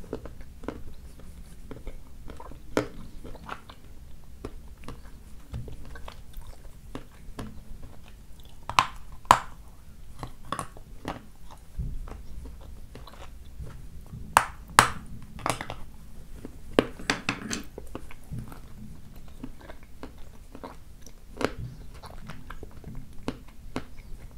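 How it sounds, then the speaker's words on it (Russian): Crisp bites into a firm, crunchy Kyrgyz persimmon, with sharp crunching snaps scattered irregularly over soft chewing and a low background hum, close and fairly quiet. "Поначалу, когда откусываешь, она откусывается с хрустом."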